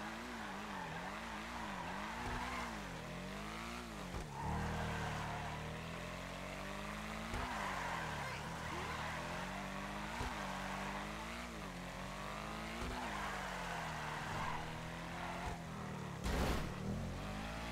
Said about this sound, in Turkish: Araba fazla dönmüyor ama çok güzel kayıyor arka tekerlekleri